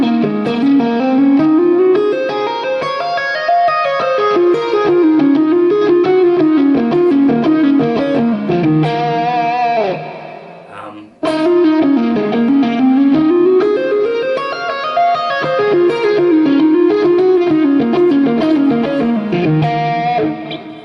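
Distorted electric guitar plays a slow, smooth legato pentatonic lick, notes sliding and flowing up and down with effects and reverb, loud and continuous with a brief gap midway before the phrase repeats.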